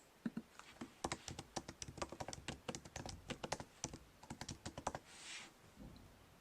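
Fast, close typing on a computer keyboard, a dense run of light key clicks over several seconds that ends with a softer swipe, no talk.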